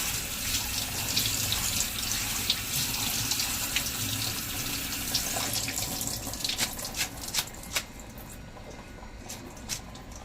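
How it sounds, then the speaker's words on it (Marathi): Ingredients for kande pohe are washed under a running tap, a steady close rush of water into a sink with sharp splashes and drips growing more distinct toward the end. "आता आपण स्वच्छ धुवून घेतोय"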